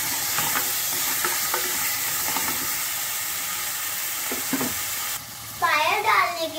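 Ginger garlic paste is stirred into a pot of mutton paya soup, heard as scraping and stirring over a steady sizzle and hiss at close range. The sound ends with a louder bubbling, bursting burst, and nobody speaks.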